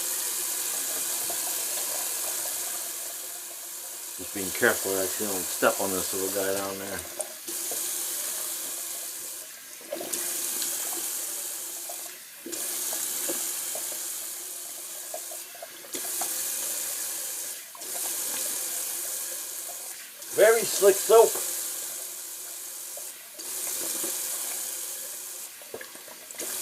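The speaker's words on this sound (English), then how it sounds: "A little cold water rinse." Cold water runs from a tap into a bathroom sink for rinsing during a wet shave with Arko soap, flowing in repeated bursts between pauses while someone talks quietly over it.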